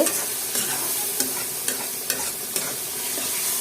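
Onions and spices are stir-fried together in a pan, a constant bright sizzle with regular spatula scrapes and taps about every half second, close and unaccompanied by talk.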